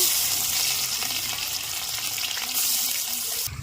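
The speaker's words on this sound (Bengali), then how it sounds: "তেল গরম হয়ে গেছে ফোড়ন দিচ্ছি গোটা এলাচ গোটা জিরে" Whole cardamom and cumin hit hot oil in a Bengali onion-egg dish, giving a steady, loud, close sizzling hiss that runs without pause and with no one talking.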